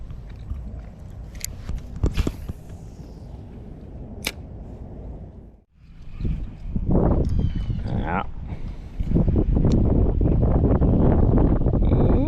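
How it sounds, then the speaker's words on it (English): Wind gusts buffet the microphone aboard a small fishing boat on Tampa Bay in hot weather, a steady low rumble that drops out briefly midway and then returns harder and louder. "It's getting a little spicy there with the wind."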